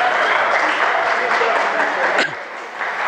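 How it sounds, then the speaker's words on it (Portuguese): An audience at a lecture gives a dense burst of clapping that stays steady and then drops off sharply, leaving a quieter room tone. "Salva de palmas para o Júlio Santos de novo"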